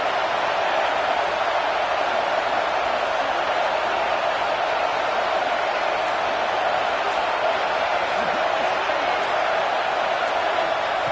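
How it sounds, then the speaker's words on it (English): Stadium crowd cheering in a college football video game, Ohio State, a steady dense roar of massed voices holding at constant loudness throughout, with no distinct breaks. "It's early, but this crowd is fired up. Listen to this noise here."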